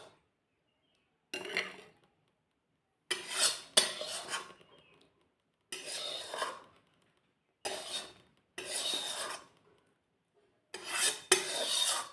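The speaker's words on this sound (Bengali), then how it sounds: "এবার আমি বাটিতে ঢেলে নেব" A spoon scrapes potol posto, a Bengali pointed-gourd and poppy-seed dish, from a pan into a bowl in several separate bursts of rasping metal-on-metal scraping with short pauses between.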